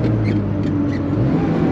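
A 1974 Porsche 911 RSR IROC tribute engine gives a loud, continuous drone, heard briefly without a break or gear change.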